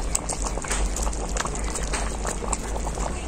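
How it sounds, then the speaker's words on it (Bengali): Cauliflower curry gravy, sweetened with sugar, bubbles and simmers in a pan with a close, dense, continuous boil and crackle that never lets up. "চিনিটা দেওয়ার পর ঝোলটাকে আবারও কিছুক্ষণ ফুটিয়ে নিয়েছি"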